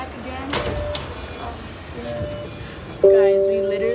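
A subway train at Jackson Square station sounds a loud two-tone door chime near the end, after a stretch of muffled platform rumble and brief clatter, with people talking faintly in the background.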